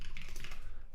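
Rapid clattering keystrokes on a computer keyboard fill a short burst of coding, fairly close and continuous, ending with a heavier key press.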